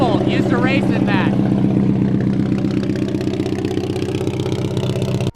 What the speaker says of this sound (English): Listen to this 1915 Duesenberg.